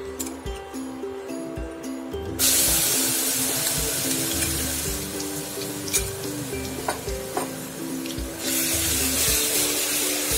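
Garlic ginger paste drops into hot oil with whole spices for dhaba-style bhuna gosht, bursting into a loud sizzle that stays steady while a spoon clinks and scrapes. A soft tonal hum runs underneath, and a quieter stretch precedes the burst.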